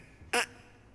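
A voice imitates a goose with one short, nasal honk, brief and fairly loud against a quiet background.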